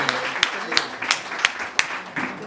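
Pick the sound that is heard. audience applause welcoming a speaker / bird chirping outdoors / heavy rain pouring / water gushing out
audience applause welcoming a speaker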